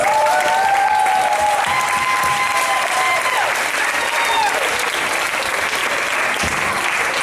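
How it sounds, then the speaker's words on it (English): Audience at a nerd night comedy show breaks into steady, dense applause that holds at full strength for the whole stretch, with a few voices and whoops rising above the clapping. "Everybody, big round of applause."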